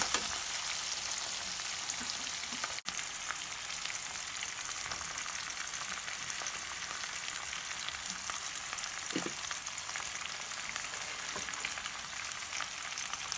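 Upma tempering with tomato, coriander, mint and curry leaves fries with a soft, continuous sizzle and crackle. It is faint and steady, and no one speaks.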